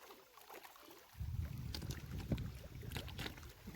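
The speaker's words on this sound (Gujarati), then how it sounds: "ચોખ્ખું પાણી ભરી લઈએ, હજી થોડુંક ડોરું પાણી આવે।" Water runs and splashes steadily into a container from a supply line, a continuous close wash of flow that starts about a second in and carries on alone with no talk.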